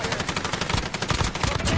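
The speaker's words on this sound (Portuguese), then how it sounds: "Para de atirar em mim." Dense, rapid automatic gunfire in a video game, a continuous loud burst of closely spaced shots with no pauses.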